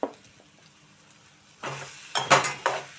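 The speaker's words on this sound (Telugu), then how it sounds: "బాగా కలుపుకుందాం దీన్ని." A spoon stirs bitter gourd curry in a pan, with a few close clinks and scrapes against the metal in the latter half after a quiet stretch of faint sizzling.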